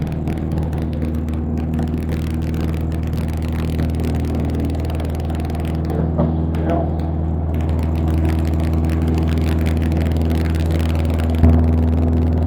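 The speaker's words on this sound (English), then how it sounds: "I'm going to advance the throttle now. Do a little recovery and tailwheel takeoff." A small tailwheel airplane's engine holds a loud steady drone with strong low harmonics, then swells gradually as the throttle advances for takeoff, heard from inside the cabin.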